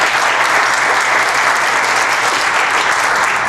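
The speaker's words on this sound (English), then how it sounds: "One final round of applause" Loud, sustained applause from a conference audience at a regional issues summit fills the room evenly from start to finish, dense clapping with no breaks and no talk over it.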